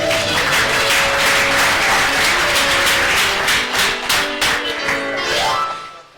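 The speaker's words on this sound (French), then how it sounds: "je demande encore à l'Assemblée d'applaudir une fois de plus" An assembly of students and guests at a welcome ceremony for new students in Mwene Ditu applauds a reverend father after his talk, dense sustained clapping filling the room before tapering off at the end.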